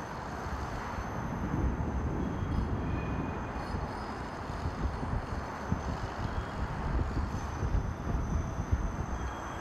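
A pair of GE Dash 9 (C40-9W) diesel locomotives idle near a coal train at a junction, producing a low, steady engine rumble heard from a distance, fairly quiet and continuous with no talking.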